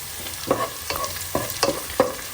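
Whole garam masala spices such as cardamom and bay leaf frying in a pan, with rhythmic stirring strokes and crackling sizzle about every half second, close and loud with no talk.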